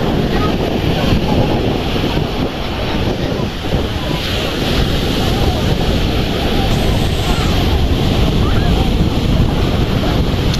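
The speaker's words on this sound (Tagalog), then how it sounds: "Malakas po ang alon mga kabayabas." Heavy surf crashes and rushes continuously on a beach, loud and close, with gusty wind buffeting the microphone throughout.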